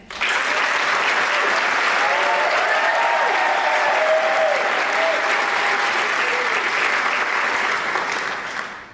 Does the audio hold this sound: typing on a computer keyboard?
no